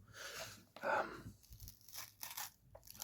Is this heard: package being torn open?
yes